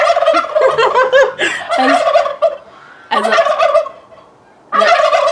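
Poultry squabble noisily up close, fighting with ducks, with loud gobbling calls in several bursts separated by short quiet gaps.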